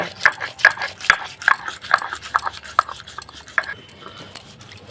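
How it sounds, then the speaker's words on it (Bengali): Mustard seeds and green chilli being ground on a flat grinding stone, a steady rhythmic series of gritty scraping strokes and light knocks, close and fairly loud, with no talk. "সর্ষা আর লঙ্কাটাকে বেটে নিচ্ছি"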